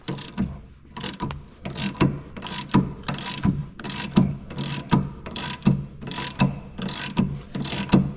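A ratchet and socket tighten bolts on a Brembo big brake kit (6-pot and 4-pot calipers, 14-inch rotors) fitted to a Z31 300ZX, giving close, steady bursts of rhythmic clicking that repeat throughout with no talking.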